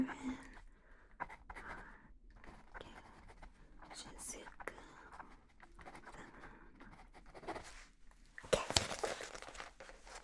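A pen scratches across paper in short, uneven strokes while someone writes down contact details, close and soft, under a steady intimate whisper with a few crinkles and a louder scratchy burst near the end.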